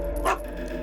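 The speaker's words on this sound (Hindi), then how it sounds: "भौंक क्यों रहे हो?" A single short dog bark in a dubbed film scene, a brief close yelp heard against steady background sound, with no talk.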